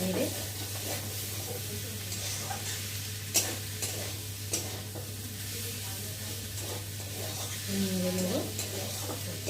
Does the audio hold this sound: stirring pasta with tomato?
yes